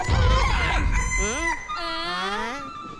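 A rooster in a Telugu comedy film scene lets out one loud, close crow that rises and then draws out, starting just after a brief burst of rough noise.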